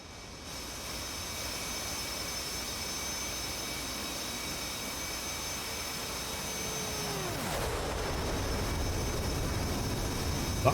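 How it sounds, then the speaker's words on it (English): A jet plane passes overhead in the DCS World flight simulator, a loud, steady engine roar that holds throughout, with a falling whine as the aircraft goes by, and no voices. "When your plane flew over?"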